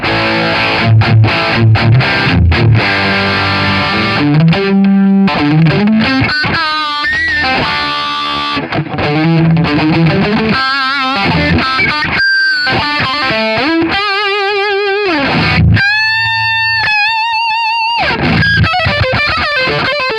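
An electric guitar through a TC Electronic Dark Matter distortion pedal with its switch engaged: fast chugging distorted riffs and chords give way to bent, vibrato-laden sustained lead notes separated by brief silences.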